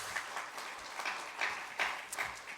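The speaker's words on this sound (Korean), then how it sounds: "여러분 먼저 박수 한번 하겠습니다." An audience at a university chapel service claps in a sustained round of applause, a dense patter with a few louder swells, fairly close.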